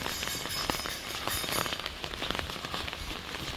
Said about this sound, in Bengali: নন স্টপ বৃষ্টি হতেই আছে।